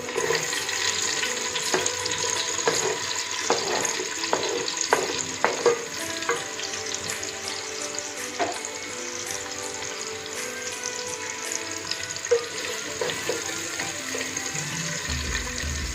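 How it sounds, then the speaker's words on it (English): Potatoes, garlic and onions fry in oil in one pot for Bengali chicken pulao, giving a dense, continuous close sizzle with frequent spatter pops and soft stirring scrapes throughout. "So in the oil, first we have given the potatoes, then the garlic, then the onions."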